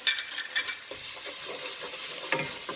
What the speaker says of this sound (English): Now I'm going to add my 2 teaspoons of garlic paste.